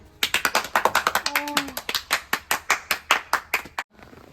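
A group at a Bible doctrine school camp clapping hands in a quick, rhythmic series of sharp, close claps, about two dozen strokes, with a brief sung or voiced tone partway through before stopping abruptly.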